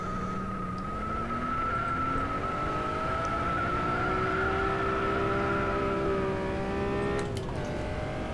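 Honda NSX sliding in the rFactor 2 racing sim at Tiger Moth, a steady engine drone with rising and falling pitch as the car drifts, a faint tire scrub and a brief sharp noise near the end.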